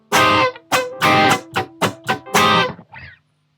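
An electric guitar strums a chord pattern for the bridge of a rock song, with about eight sharp percussive strokes, some choked and muted, close and loud, ending on a fading stroke.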